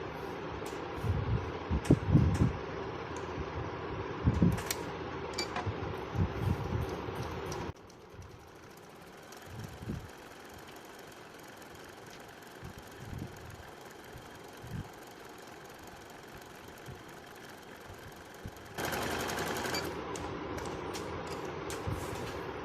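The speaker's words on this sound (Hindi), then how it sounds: "अभी लगाते हैं इसकी सीधी सिलाई जी, जो कि इस मशीन का 2 नंबर वाला डिज़ाइन है सीधी सिलाई" A Janome sewing machine running a straight stitch gives a steady, close mechanical whirr with rhythmic knocking, stopping in the middle for several seconds and then resuming.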